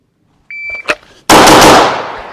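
A Gen 5 Glock 19 pistol fires at close range, a sharp, loud blast that rings out and decays; a short electronic beep, like a shot timer, sounds just before.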